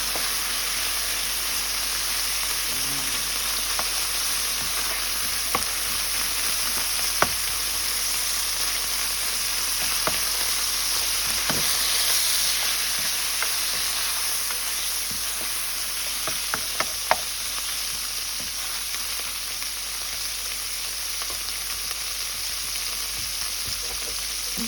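Yakisoba noodles frying in cooking oil, a continuous loud sizzle with a hissing wash and occasional sharp pops and utensil clicks, steady throughout with no talking.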